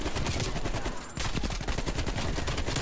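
AK rifle fire in a first-person shooter game: rapid, loud automatic bursts of shots with a short pause midway, then continuous firing again.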